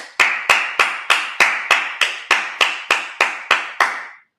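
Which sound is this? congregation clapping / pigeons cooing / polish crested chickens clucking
congregation clapping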